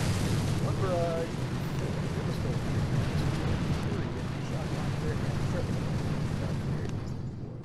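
A video game artillery barrage produces a dense, continuous rumbling roar of explosions that stays loud throughout and fades slightly near the end.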